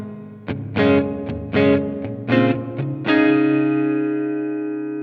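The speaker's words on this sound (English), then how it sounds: "we're out of the delays now, we're into just the normal reverb modes. This is a small room" Electric guitar notes and chords run through a BOSS RV-3 pedal in small room reverb mode, several plucked attacks in quick succession before a final chord rings out and fades slowly over a short ambient tail.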